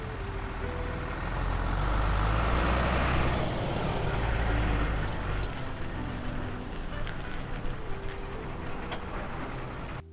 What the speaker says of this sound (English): That's a vehicle transport truck.